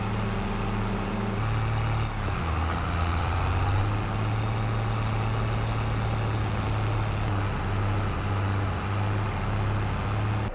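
Truck hauling a trailer in Farming Simulator 22, its engine a steady low drone with layered tonal hum throughout, loud and continuous with a brief shift in pitch early on, and no talk.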